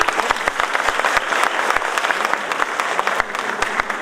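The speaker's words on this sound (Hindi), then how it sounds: "सर के लिए एक बार जोरदार तालियां।" A crowd gives loud, dense applause for a speaker named Surendra at a Dr. Ambedkar Jayanti event, close and sustained with many sharp claps throughout.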